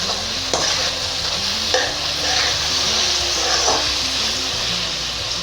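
Chopped onion sizzling and frying in a pan for Dhaba-style whole masoor dal, with steady hissing and occasional stirring scrapes, close and continuous.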